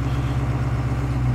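A Ford Crown Victoria engine idles below 1,000 RPM, a steady low rumble with an even throb, close and fairly loud with no voices.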